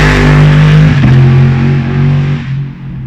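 A 580 HP Daytona GT Coupe race car at Bira Circuit in Thailand, its engine roaring loud and close with a deep tone that shifts in pitch as it runs past, then fades away.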